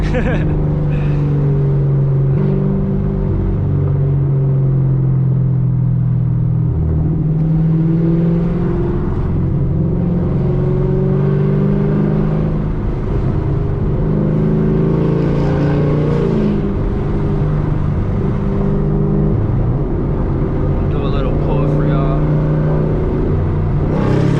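Loud, continuous V8 roar from a modded Chevrolet Camaro ZL1 on the move, heard from inside, with revs climbing and dropping through gear changes and a deep rumble sustained the whole way.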